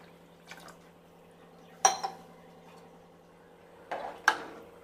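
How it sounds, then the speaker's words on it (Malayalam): A glass of water goes into drumstick sambar in a pot in a home kitchen, with a few metal clinks and brief splashy pours over a steady low kitchen hum. "ഒരു ഗ്ലാസ് വെള്ളം കൂടെ ചേർത്ത് കൊടുക്കാം."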